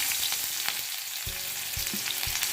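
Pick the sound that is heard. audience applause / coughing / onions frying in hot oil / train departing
onions frying in hot oil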